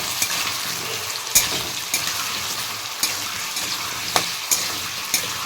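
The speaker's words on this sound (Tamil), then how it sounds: "இதை நல்லா ஃபுல்லாக இந்த மாதிரி ஃப்ரை பண்ணிக்கணும்." Mushrooms and fish frying over a low flame for an Odisha-style curry, a steady close sizzle broken by sharp scrapes and clinks of a spatula stirring in the pan.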